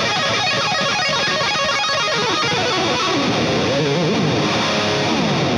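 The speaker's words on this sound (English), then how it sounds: "And now let's hear it with the overdrive on." Electric guitar played through a Rocktron Reaction Supercharger overdrive pedal, giving a loud, continuous driven tone with dense distorted chords and riffs throughout.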